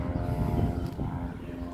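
A propeller aircraft at a nearby airfield drones steadily in the background, a low continuous engine hum at moderate loudness with no talking over it.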